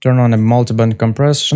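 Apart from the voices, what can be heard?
No everyday noises stand out.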